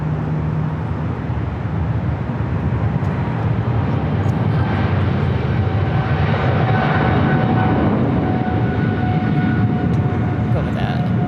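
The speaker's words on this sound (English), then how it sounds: "Another takeoff." An airplane takes off at LAX, a loud, steady engine roar that fills the whole stretch, with people talking over it.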